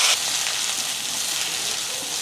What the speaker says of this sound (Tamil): கடுகு பொரிஞ்சதுமே ரசத்துக்கு தட்டினது சேர்த்துடலாம்.